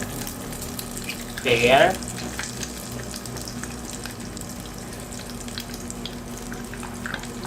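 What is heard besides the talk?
egg frying in hot oil in a Lazada multicooker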